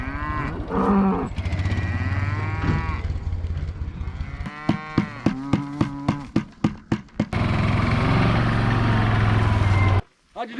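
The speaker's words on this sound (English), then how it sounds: "We're moving cows today, and Bud Man's about to come around the corner with some cows" Cattle being moved on a farm moo repeatedly at close range, long low calls mixed with short bursts, over a steady engine hum from nearby vehicles.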